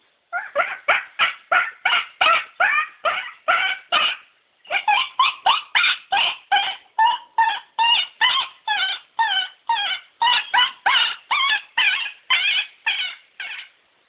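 A human voice imitates a puppy, giving a long run of quick whimpering yips in steady rhythm with one short pause.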